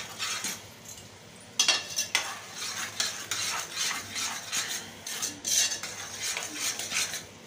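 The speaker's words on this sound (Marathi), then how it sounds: "व्यवस्थित हलवून घ्यायचं" A spoon stirs homemade spicy masala in a pan for kata vada curry, scraping and clinking against the metal in uneven strokes over a faint sizzle, close and fairly loud with no talking.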